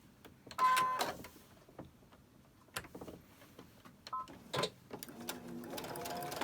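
Sewing machine stitching fabric pieces together in short, quiet bursts of rapid mechanical chatter separated by pauses, with faint clicks and handling noises between runs.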